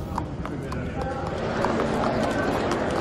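Racehorses walk through a tunnel toward a grandstand, their hooves making a steady clip-clop that echoes under a dense rumble, with voices talking over it.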